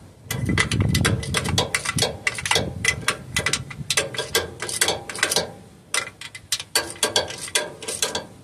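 A ratchet tightens the transmission pan bolts on a 2001 Toyota Sequoia 4.7, rapid bursts of clicking pawl sounds in repeated strokes, close and loud, with short pauses between runs.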